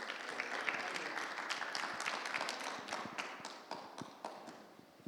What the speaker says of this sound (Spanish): Ahora, más fuerte ese aplauso.